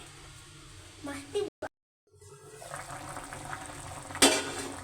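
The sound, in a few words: fish curry broth boiling in a pot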